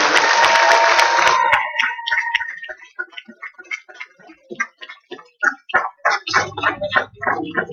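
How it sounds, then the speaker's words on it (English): A church congregation clapping during a service, a loud dense burst of applause at first, then thinning into scattered individual claps with some voices murmuring underneath. "I want you to clap your hands as loud as you can in this place"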